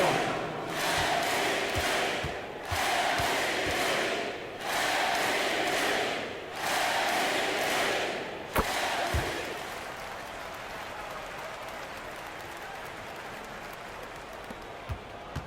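A basketball arena crowd cheers and roars in loud surging waves, then settles into a lower murmur with scattered shouts and a sharp bang partway through.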